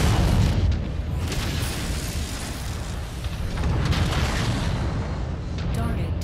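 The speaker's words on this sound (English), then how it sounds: "You think you could maybe, fire some missiles?" Missiles launch and explode in the mech combat video game Mechwarrior 5, a dense, continuous rumble of booming blasts and impacts, loud throughout, with a player's voice talking over it.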